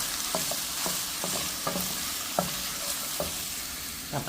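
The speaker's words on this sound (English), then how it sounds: "I'm going to stir this around, get this cooking, and I'm going to add in my spices." Split peas and spices stir-fry in a pot with a steady sizzle, while a spoon scrapes and knocks against the pot in repeated strokes close up, with no voices.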